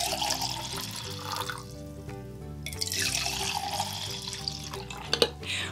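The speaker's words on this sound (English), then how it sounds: "We can pour it from jar to jar." Water splashes and trickles as it is poured from one jar into another, a soft liquid pour heard beneath steady background music.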